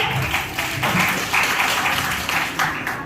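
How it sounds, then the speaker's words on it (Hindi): Audience applause at a college culture fest and anniversary celebration, a steady wash of many hands clapping at moderate volume throughout, without a break. "जोरदार तालियां हो जाए।"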